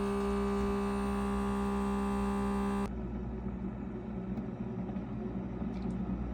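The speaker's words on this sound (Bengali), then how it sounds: "কফিটা দিয়ে এখন মেশিনটা অন করে দিচ্ছি" A home coffee machine switches on and runs with a steady electrical hum and whir, then the tone drops to a lower, rougher mechanical churn partway through, close and continuous.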